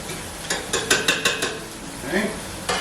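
Onions and peppers frying in lard being stirred in a pan, giving a few close scraping clinks of a utensil over a soft background sizzle.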